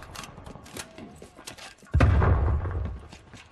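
A grenade explodes in Call of Duty: Black Ops Cold War, a heavy booming blast with a deep rumbling tail, following a stretch of quieter gunfire and game noise.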